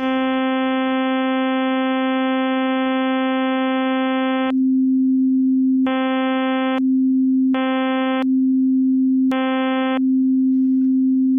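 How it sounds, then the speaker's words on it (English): A synthesized tone built in Pure Data switches back and forth between a buzzy, harmonic-rich sawtooth and a pure sine wave at the same steady pitch, loud and continuous, with no voices. "you hear that kind of buzzy sound of the sawtooth. So what I'm going to do is switch between the two."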